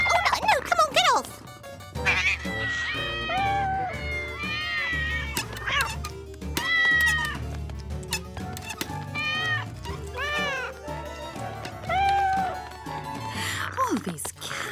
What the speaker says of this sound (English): All these cats.